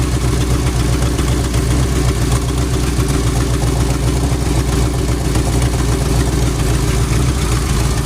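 A Mopar big block V8 with twin turbos runs steadily at close range, a loud, even, smooth idle with a deep continuous rumble and no break for the full length.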